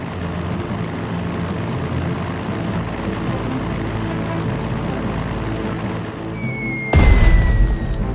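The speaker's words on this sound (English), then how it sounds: "Now attack it with the second bomber." In the strategy game Strategic Mind: Blitzkrieg, a bomber aircraft attacks with a steady droning propeller engine, followed by a sudden loud blast and a rising whine as the strike lands.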